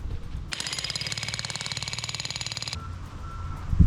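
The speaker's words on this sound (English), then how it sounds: "Oh yes, the jackhammer for the win." Jackhammer breaking up clay outdoors at a homestead, a close, loud continuous burst of rapid rhythmic pounding lasting about two seconds, then stopping.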